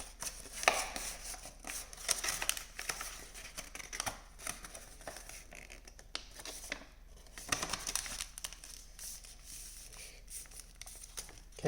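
Crisp crackling and rustling of a sheet of paper being creased and folded into an origami crane, close and continuous with brief pauses, no talking.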